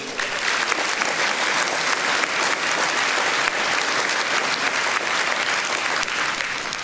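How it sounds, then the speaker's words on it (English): A crowd at a large Reform UK political rally in Swindon breaks into loud, dense applause that holds steady and close throughout, with no voices standing out. "Can I get a round of applause?"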